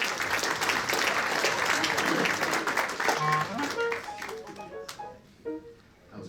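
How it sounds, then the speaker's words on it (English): Audience applause for the musicians of a traditional jazz band at an international classic jazz festival, a dense burst of clapping that gradually thins into scattered claps and a few voices. "how about a round of applause for those great musicians?"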